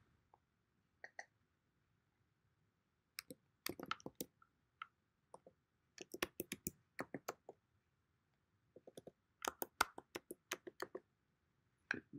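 Bursts of keystrokes on a computer keyboard as a password is typed, coming in short irregular clusters separated by pauses, close and fairly quiet with no voices.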